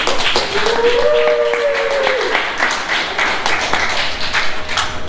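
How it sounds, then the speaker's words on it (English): A roomful of people claps for a speaker after a first speech at a UMTMC open day, with loud, continuous applause that carries individual sharp claps and a brief tone mixed in, and a voice briefly speaking over it. "Let all of the audience can have a clap for Zhi Jun."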